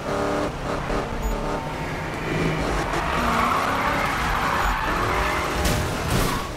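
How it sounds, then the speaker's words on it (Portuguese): Ken Block's 1965 Hoonicorn Ford Mustang in Need for Speed (2015), drifting through a police chase with loud sustained tire squeal over a roaring engine, continuous and close for several seconds. "Que delícia de drift."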